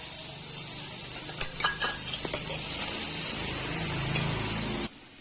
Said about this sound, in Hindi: अब डाल देंगे प्याज कटा हुआ बारीक